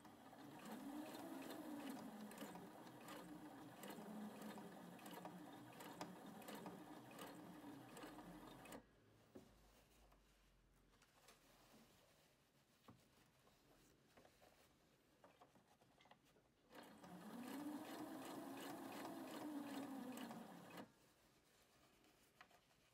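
A sewing machine stitches fabric along a sleeve seam while attaching a facing, its quick rhythmic whirring in two long runs separated by a quieter stretch of handling noise, close and fairly soft, with no talking.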